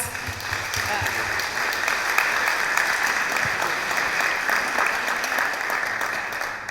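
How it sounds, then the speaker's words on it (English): A conference audience at a climate finance session breaks into sustained applause, an even, full wash of clapping throughout with faint voices mixed underneath. "I think that deserves a round of applause"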